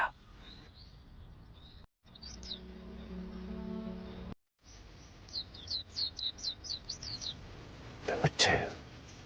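Japanese white-eyes chirp in a bush during cherry blossom season in Japan: quick, thin, high twitters come in short bursts over a low background hum, followed by a louder rustling flurry near the end.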